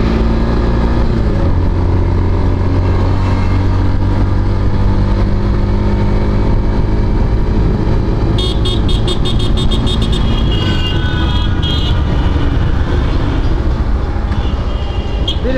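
A Yamaha version 4 motorcycle engine runs steadily and loudly up close, a constant rumbling drone that holds its pitch for the whole stretch, with faint higher tones creeping in near the end.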